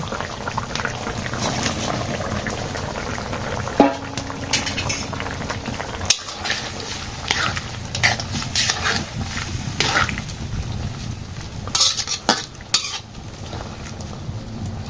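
A pot of potato and soybean curry bubbles steadily on a village stove while a spoon stirs and clinks against the metal pot in scattered knocks.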